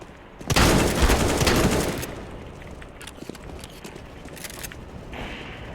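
A loud, close shot from an SSG 08 sniper rifle in the game CS:GO, its blast roaring for over a second and fading into quieter game noise and a few faint clicks.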